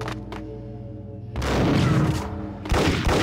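Gunfire in the Max Payne video game comes as a burst of heavy, booming shots, loud and close, after a low hum.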